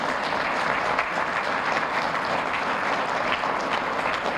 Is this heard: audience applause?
yes